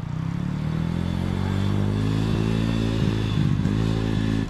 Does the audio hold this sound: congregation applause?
no